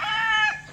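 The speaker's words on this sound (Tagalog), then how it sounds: "ito yung mga inahin ko." A hen gives a short nasal cluck-like call up close, a single brief utterance among pullets kept for laying.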